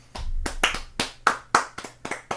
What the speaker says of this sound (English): Can we clap it up?